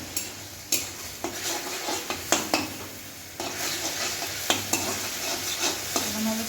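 Boiled potato and soybean chunks frying in oil with spices, a low steady sizzle broken by repeated sharp scrapes and knocks of a spatula against the pan, close and fairly quiet.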